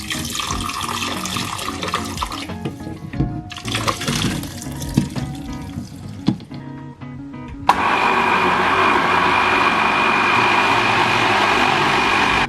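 Liquid for a Slimming World batch-cook recipe glugs and splashes into a blender jar in uneven pours, then a louder steady whirring takes over near the end.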